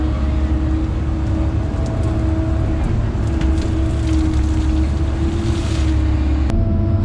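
Kobelco SK160 excavator digging dirt for an inground pool and pond on a mountain site, its steady diesel engine drone and hydraulic whine running continuously and close, with faint scraping and clanks on top.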